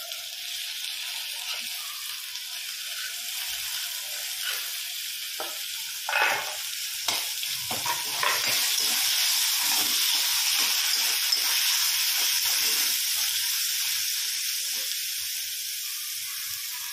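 Onions and tomatoes sizzle steadily as they fry in a pan, a continuous close hiss with occasional stirring scrapes and brief pops, growing slightly louder partway through; no one speaks.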